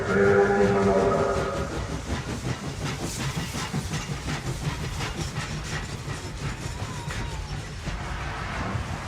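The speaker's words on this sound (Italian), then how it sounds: "attenzione al primo binario, treno in manovra." A train maneuvering on the first platform at Roma Tiburtina station gives a steady broadband hiss and rumble with faint rhythmic clatter, opening with a brief tonal hum that fades into continuous mechanical noise.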